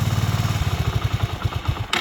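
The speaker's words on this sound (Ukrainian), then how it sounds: "тихенько працює двигун. Прям дуже. Дуже тихенько. Чутно, так сказати, клапанці трошки." A Suzuki Djebel 200 motorcycle engine idles with a steady, rapid low thumping and a light mechanical ticking of valve clatter on top, ending in a brief burst of noise.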